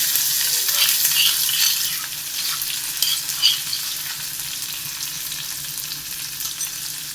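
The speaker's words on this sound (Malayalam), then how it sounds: "ഇതൊന്ന് വഴറ്റിയെടുക്കണം." Crushed onion, garlic and chili sauté in a hot pan for a Kerala brinjal mezhukkupuratti, sizzling steadily with a bright frying hiss and occasional stirring scrapes throughout, close and alone with no voices.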